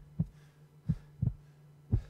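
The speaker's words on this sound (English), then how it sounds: "Heartbeat." Heartbeat effect in the horror video game 123 Slaughter Me Street: four soft, deep thumps spaced at a slow, steady pulse over a faint low hum, with no talking.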